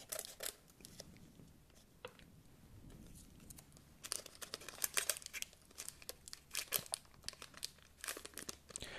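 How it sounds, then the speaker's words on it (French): A Pokémon Sword and Shield booster pack is torn open and handled, giving close, crisp foil crinkling and tearing with scattered sharp crackles that grow denser toward the end, with no voices. "Alors on va ouvrir le troisième booster."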